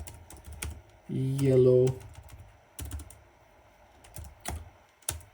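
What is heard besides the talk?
typing code on a computer keyboard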